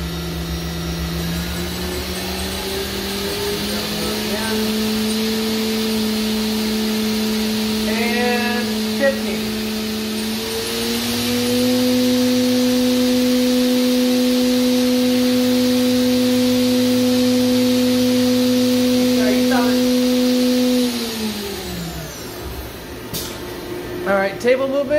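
Haas VF-4SS CNC mill spindle spinning up through rising speed steps to 15,000 RPM, a steady whine that climbs in pitch in stages, then winds down near the end, with people talking quietly.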